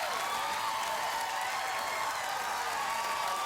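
Studio audience applause on a late-night talk show fills the room as a dense, steady wash of clapping, holding loud and even throughout with no voices on top.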